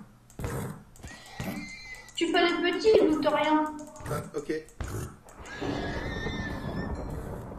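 Horses neigh and whinny in a video game, a long loud whinny in the middle and shorter snorts around it, with people talking in between.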